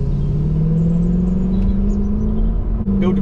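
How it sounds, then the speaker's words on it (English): Mercedes C63 AMG W204 V8 engine revving slowly and steadily through a village, a loud, close, continuous rumble rising gradually in pitch, with a brief dip near the end. "build the revs up really slowly"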